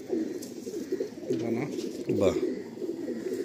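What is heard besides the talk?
pigeon cooing while held in hand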